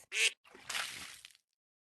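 Two short, bright duck quacks play from a drawing app, a quick first call then a longer one, clean against silence.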